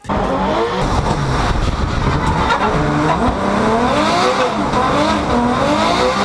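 A Subaru BRZ sports car drives past with a loud, steady engine note that rises and falls through gear changes, tire noise underneath, no talk.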